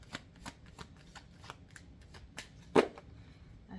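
Tarot cards being shuffled by hand: a quick series of crisp riffling snaps and flutters at an uneven rhythm, one louder slap near the end, close and quiet with no talking.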